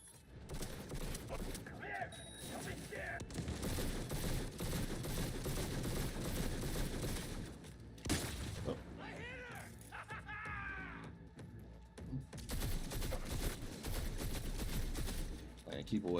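Gunfire from a weapon in a video game rattles in dense, sustained bursts, loud and close, broken by a brief pause before firing resumes, with game sounds mixed in.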